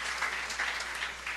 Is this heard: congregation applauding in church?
yes